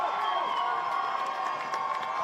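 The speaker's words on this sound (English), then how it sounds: "Husky crowd is getting loud." A home crowd at a 2022 varsity high school football game cheers and shouts steadily, a dense, loud roar of many voices with occasional higher whoops rising above it throughout.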